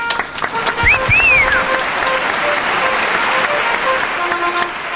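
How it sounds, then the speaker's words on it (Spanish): Applause and cheering from a studio audience during a live Spanish-language podcast, loud and close, with a whistle rising over it early on and a few voices mixed in. "Gracias por el aplauso"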